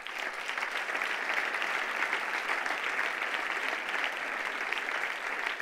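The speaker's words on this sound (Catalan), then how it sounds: "Un fort aplaudiment." An audience at an autumn awards gala applauds steadily, a dense and even wash of many hands clapping at close range with no voices over it.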